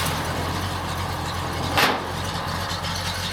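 A 1951 Chevrolet 3100 pickup with a 5.7 small-block V8, Edelbrock carb and straight-through pipes with cherry bombs idles with a steady low rumble, broken by one brief burst of noise partway through.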